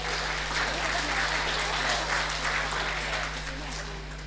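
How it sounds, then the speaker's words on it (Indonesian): Audience applause at a police handover ceremony in Papua, a steady wash of clapping lasting several seconds and easing slightly toward the end, with a low steady hum underneath. "Tepuk tangan dulu."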